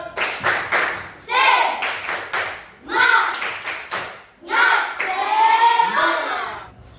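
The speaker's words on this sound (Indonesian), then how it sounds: "kalau begitu sekarang semuanya tepuk semangat" Students in an Indonesian classroom perform a rhythmic spirit clap, loud close group clapping in quick repeated bursts, with children's voices chanting along between and over the claps.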